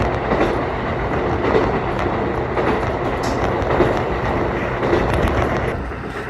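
A JR Hokkaido train on a trip around Hokkaido toward Nemuro, heard from a passenger seat inside: a loud, continuous rumble of wheels on rail with faint periodic clatter and some wind noise, no talking.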